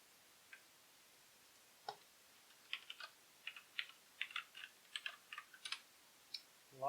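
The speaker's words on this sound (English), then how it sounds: "At least I have a mechanical keyboard." Keys clack on a mechanical computer keyboard in short bursts of quiet, crisp taps, sparse at first and then quicker, recorded faintly with no speech.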